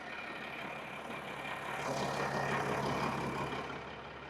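An old abandoned Caterpillar SS250 soil stabilizer runs with a steady, rumbling diesel engine drone that swells a little louder midway as the machine moves, then eases back.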